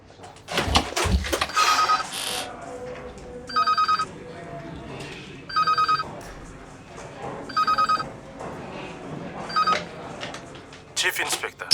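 A landline telephone rings in a repeated pattern of short electronic bursts at regular intervals, with people talking in between and around the rings.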